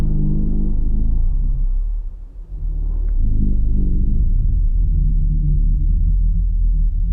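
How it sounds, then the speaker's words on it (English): A singing sand dune from the Dune film hums as a deep, sustained, droning rumble with a tonal quality. It dips briefly partway through, then swells back and holds steady and loud. "So the first sample is this singing sand dune sample here."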